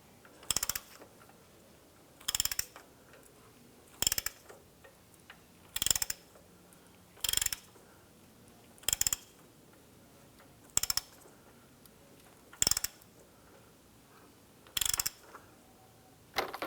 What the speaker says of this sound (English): We're going to use our socket extension. You can use a breaker bar, but we're going to go ahead and just use our ratchet.